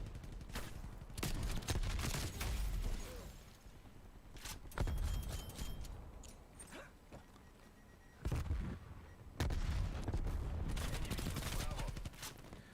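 Video game gunfire in bursts with a frag grenade blast, loud rapid volleys separated by quieter gaps, with voices faintly underneath.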